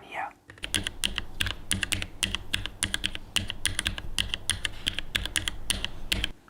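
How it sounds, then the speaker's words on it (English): Rapid, close-up typing on a SIKAKEYB SK3 compact 65% mechanical keyboard, with irregular bursts of softened clacky keystrokes running almost continuously. "the typing is already a lot softer"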